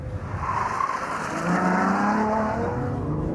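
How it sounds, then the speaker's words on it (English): Ferrari FF with four-wheel drive powering out of a hairpin at full throttle, a loud close engine roar building steadily with tire squeal and skid noise throughout, no talk. "That's full throttle."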